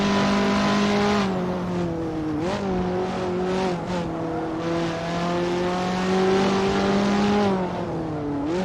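Race cars lap the Red Bull Ring in the Assetto Corsa racing game, one engine whining steadily at high revs and dipping and climbing through gear changes, loud and close throughout with no talk.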